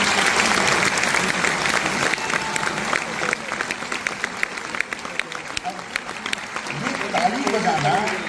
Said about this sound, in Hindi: आज एक बार अपने लिए ताली बजाइए